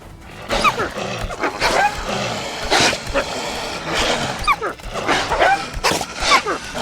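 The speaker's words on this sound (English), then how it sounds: "Bad doggy." Snarling, growling dog attack in a video game, with repeated harsh barks and yelps in loud bursts across the clip and some faint background noise.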